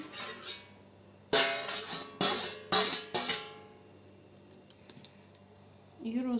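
Liquid of egg and sugar is mixed into flour in a bowl for a yeast dough, with several sharp metallic clinks and clatters close together, then a quieter stretch and a brief voice at the end.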